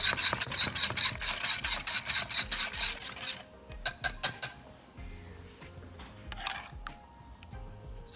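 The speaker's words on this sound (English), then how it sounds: "I'm gonna whisk that lemon in, or garlic. Just start streaming in some extra virgin olive oil." A whisk scrapes rapidly around a bowl, blending lemon, garlic and extra virgin olive oil into a dressing for kale salad, a fast rhythmic rasping that slows and turns sporadic toward the end.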